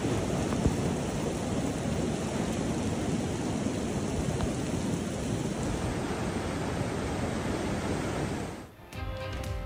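Heavy rain pours in California as a dense, unbroken roar, loud and close throughout, with a brief dip and a faint tonal ringing near the end.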